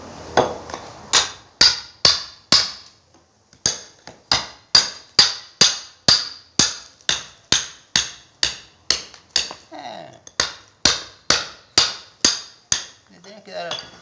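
A rotary hammer breaks up concrete during a broken sewer pipe replacement, firing loud, evenly spaced percussive bursts in quick rhythmic runs with a couple of short pauses between them.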